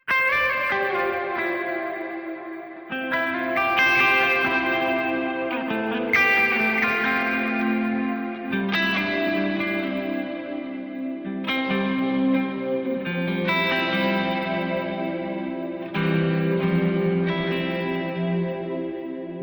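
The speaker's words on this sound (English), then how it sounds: "this is a great reverb to have as well" Guitar chords played through a Quad Cortex reverb preset ring out in a slow sequence, each strum washed in lush, long reverb tails that blend into one another, with no talking.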